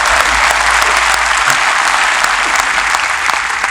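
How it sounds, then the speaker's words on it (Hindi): Steady, dense applause from an audience at a Hindi comedy poetry gathering, continuous and fairly loud throughout with no voices over it. "थोड़ी बहुत तालियां मेरे लिए भी बजा देना।"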